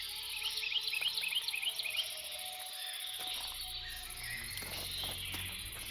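Loud crickets chirp in rapid trilling bursts close by, a constant insect drone filling the background, with the pulsed chirps strongest early and fading into a steady hum.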